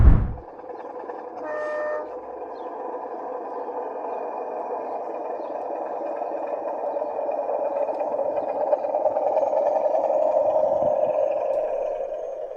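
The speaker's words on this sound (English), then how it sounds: "there was a great opportunity to see some slightly bigger locos in action" An O gauge model railway locomotive runs along a garden track, a steady mid-pitched motor hum and rolling rumble that builds gradually, with a brief tooting whistle near the start.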